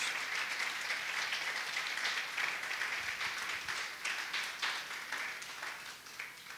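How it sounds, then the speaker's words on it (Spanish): A congregation applauding during a Christmas church service, a steady, fairly distant crowd clapping that carries on throughout and slowly fades. "Le vas a dar un aplauso, dáselo fuerte a tu Dios."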